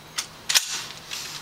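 Pulling back the bolt of an SKS rifle gives two quick, sharp metallic clacks about a third of a second apart, close and crisp, followed by a faint rattle.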